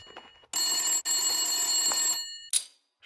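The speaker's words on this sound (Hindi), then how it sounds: "तभी फोन की घंटी बजी।" A telephone bell rings loudly and continuously for about a second and a half inside a home, then gives one more short ring, with no one speaking.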